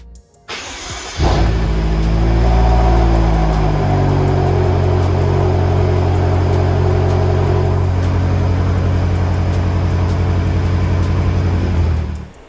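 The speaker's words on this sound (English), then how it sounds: "Now let's go ahead and start the M5 up." A BMW F10 M5 fitted with Project Gamma intakes cranks and fires up loudly, then settles into a steady, deep idle that holds for about ten seconds before cutting off, with no talking.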